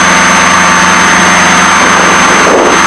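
A Piper Seneca twin-engine aircraft's engine runs with a loud, steady droning roar that holds constant throughout, with no talking.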